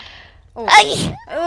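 A single loud, close sneeze bursts out during a GTA 5 roleplay session, with a brief spoken word just before it and voices resuming right after.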